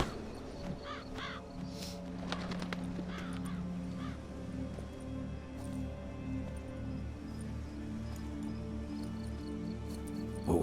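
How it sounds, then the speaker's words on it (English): A raven caws repeatedly in The Witcher 3 game world, a few hoarse calls standing out early over a dense bed of ambient game sound and music, with no voices. "What was that? A raven?"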